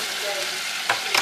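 Fried chicken frying in a home kitchen, hot oil giving a dense, steady sizzle up close, with a couple of brief sharper crackles and stirring sounds near the end.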